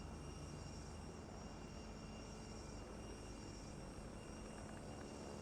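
A steady, droning airplane engine roar holds constant throughout, broad and mechanical, like aircraft noise from the transport game Worldwide Rush, with no voices.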